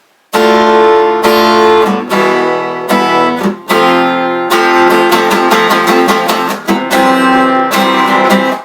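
Bright acoustic guitar chords strummed loudly and up close, ringing in steady bursts with short pauses between changes.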